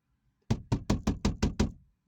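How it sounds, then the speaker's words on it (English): Seven quick, sharp knocks bang on a door in a fast, even rhythm, loud and close, preceded by silence. "Banging on the door."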